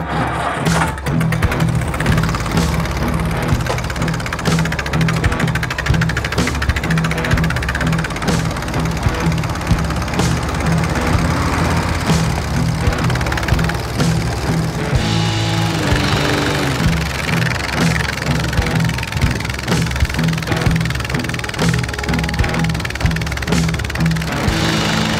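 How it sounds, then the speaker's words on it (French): A farm tractor engine runs steadily throughout a ride on a distillery property, a continuous low mechanical drone with a rough, knocking texture that stays loud and close the whole way, with no talking. "on peut aller avec le tracteur, ça me ferait plaisir"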